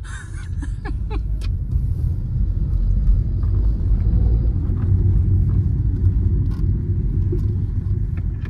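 Hyundai Elite i20 1.2 and Tata Altroz 1.2 hatchbacks launching side by side in a drag race, a steady loud engine rumble and road roar throughout with faint voices underneath.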